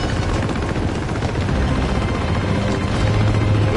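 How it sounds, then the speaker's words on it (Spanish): Dense, loud gunfire and a helicopter's roar fill the scene in the Uncharted 2 video game, a continuous wash of rapid shots and rotor noise with no talk. "¡Oh, los helicópteros!"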